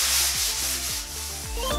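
Hand sanding of chalky paint on a wooden sign to distress it, close rhythmic rubbing strokes in quick back-and-forth repetition.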